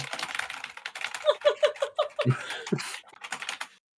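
Rapid clicking keystrokes on a computer keyboard, close and fairly quiet, with light laughter and a voice mixed in.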